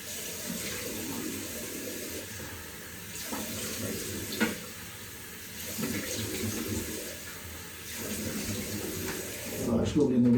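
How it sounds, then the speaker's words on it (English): Cold tap water runs steadily into a bathroom sink while it is splashed on a face after a shave, with rhythmic splashing surges and a final gasp. "let's get some cold water on there"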